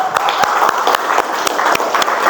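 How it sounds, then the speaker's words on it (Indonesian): Students in a chemistry classroom clapping for a classmate: sparse, separate claps at a loose rhythm over a dense room noise, close and fairly loud. "Beri tepuk tangan untuk Samuel."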